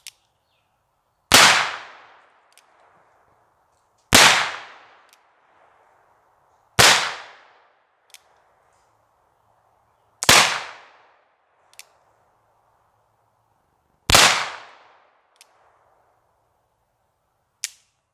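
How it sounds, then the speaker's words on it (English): Home made percussion caps being test fired outdoors, five sharp loud cracks spaced a few seconds apart, each ringing briefly before fading into quiet. "Let's back up a few steps and shoot a few caps."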